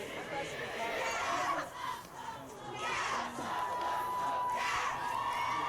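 A crowd at a high school football state championship game, heard as a loud sustained roar of cheering and shouting voices with chatter that briefly dips before surging again.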